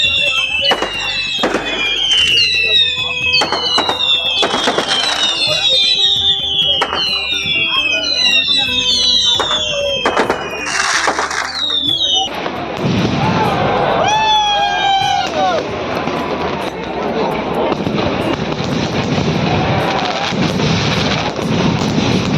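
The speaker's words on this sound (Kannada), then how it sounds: "ರಾತ್ರಿ ಸಿಡಿಮದ್ದು ಪ್ರದರ್ಶನ ಇದ್ದದಲ್ಲ" Night fireworks display at the Kukke Subramanya temple festival in Karnataka, loud repeated bursts and crackles with whistling rockets, then dense continuous crackling and booming over a large crowd.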